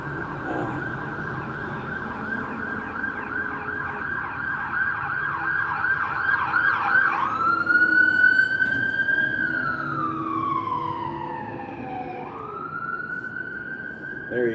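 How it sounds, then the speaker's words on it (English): An ambulance siren wails and yelps nearby, then sweeps down in pitch as it passes and moves off, with traffic rumbling underneath. "There's a ambulance for you."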